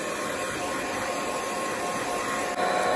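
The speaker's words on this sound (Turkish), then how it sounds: "Şimdi saç kurutma makinemi çalıştırıyorum." A hair dryer on its hot setting blows in a steady, continuous close-up roar, drying a tape sticker on a homemade transparent label. The level stays constant and jumps briefly louder near the end, with no voices.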